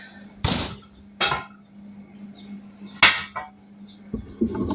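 An oven door shuts in a home kitchen during BBQ meatloaf cooking, making a few sharp, close clunks and knocks spaced over several seconds above a steady low hum.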